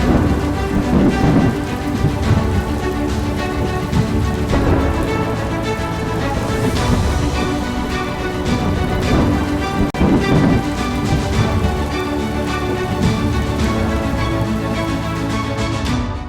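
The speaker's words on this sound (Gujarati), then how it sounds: "ભારે વરસાદને કારણે રસ્તાઓ પર નદી જેવા દ્રશ્યો જોવા મળ્યા।" Heavy monsoon rain pours onto flooded roads around a village bus stand near Dwarka, Gujarat, a loud, dense, unbroken roar of rainfall throughout with a possible rumble of thunder.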